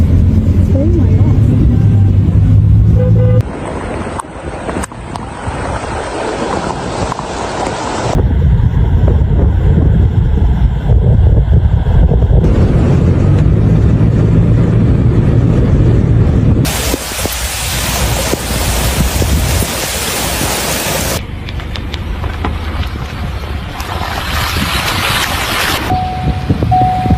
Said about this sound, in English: What was once a gentle creek transformed into a raging, muddy torrent, roaring louder by the minute.